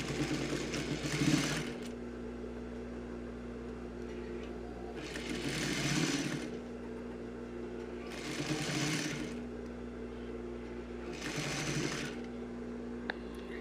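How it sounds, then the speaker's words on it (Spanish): A sewing machine topstitching along a fabric fold on a diagonal bag, steady close motor whir with four louder bursts of fast stitching separated by quieter running, no talking. "sujetarla con un pespunte de un 16avo sobre el doblez que acabamos de realizar"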